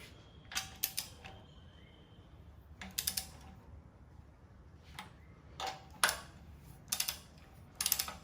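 Wrench clicking as it tightens the cylinder head bolts on a Volkswagen Beetle engine, short bursts of ratchet ticks separated by pauses, close by and fairly quiet.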